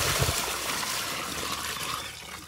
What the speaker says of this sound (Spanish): le voy a echar otro poco de agua así